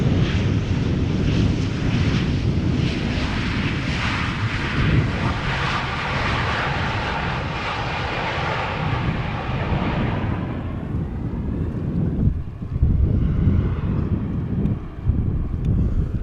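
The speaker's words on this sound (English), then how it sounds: "This is KLM flight 1598. Having arrived from Rome," A KLM Boeing 737-700 arriving at Amsterdam Schiphol from Rome roars loud and broadband with heavy wind buffeting, then fades after about ten seconds to a lower, rumbling tail.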